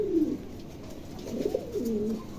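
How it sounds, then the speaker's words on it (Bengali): Pigeons cooing at a breeder's loft, a few soft, low throaty coos close by, separated by short pauses. "দেখেন চমৎকার কবুতরগুলা"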